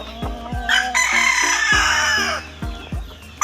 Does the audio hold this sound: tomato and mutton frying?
no